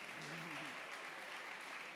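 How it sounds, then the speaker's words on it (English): Audience applause at a main-stage expo award session, a steady broadband wash of clapping with faint voices mixed underneath. "this is your applause."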